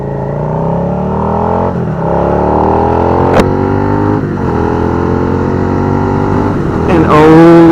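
A motorcycle with a Two Brothers Hurricane aftermarket exhaust revs up and down several times, its throaty pitch climbing and falling close by.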